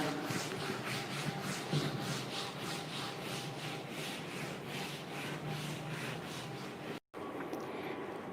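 A classroom board is rubbed clean with an eraser in steady back-and-forth scrubbing strokes, a rhythmic close rasping that runs evenly for several seconds and breaks off near the end.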